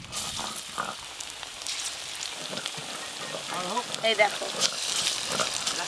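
Beet and cabbage kofta fry in hot oil with a steady crackling sizzle, while someone talks over it and dishes clatter faintly nearby.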